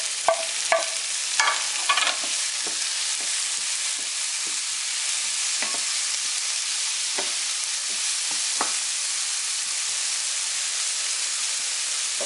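Tomatoes stirred into shrimp frying in a pan, a continuous close sizzle and hiss with scattered scraping stir clicks, louder at the start and then settling into a steady fry.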